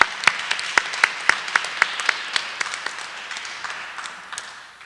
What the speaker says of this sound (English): And so let's have a round of applause for the other 6 groups that are here today.